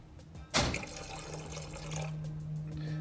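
Water splashes suddenly and then pours steadily into a bottle, about one ounce, a close, continuous gurgling stream.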